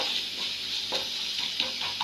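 Onions for a fish curry fry in a pan with a continuous soft sizzle, broken by several quick, light stirring scrapes close by.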